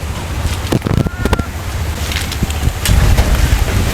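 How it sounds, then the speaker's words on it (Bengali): Strong wind blows outdoors ahead of dark clouds on a farm where banana trees are being planted, a steady loud rumbling roar buffeting the microphone with gusty surges, strongest toward the end. "আপনারা দেখতেই পাচ্ছেন যে প্রচুর বাতাস বইছে বাইরে"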